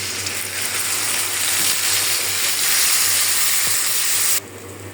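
Spices go into onions frying in a pan, giving a loud, steady sizzling hiss with a low hum beneath it that cuts off sharply near the end.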